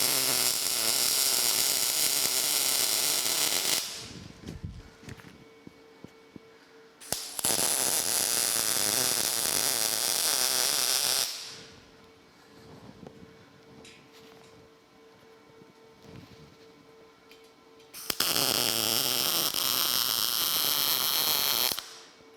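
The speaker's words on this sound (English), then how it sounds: "I think I can go ahead and weld that in place now" Arc welding parts of a ZT Fab welding cart: three long loud crackling, buzzing weld runs separated by quieter pauses, close up with no talking.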